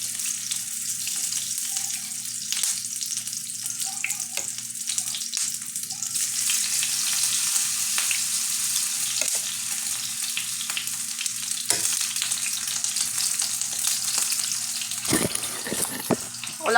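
Food frying in hot cooking oil in a home kitchen, a steady close sizzle with scattered crackles and pops running through the whole stretch, a few sharper spatters near the end, no one speaking.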